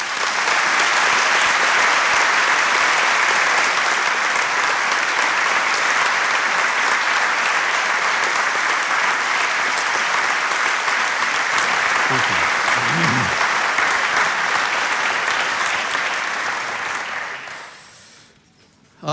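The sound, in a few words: audience applause welcoming Dr. Charles Swindoll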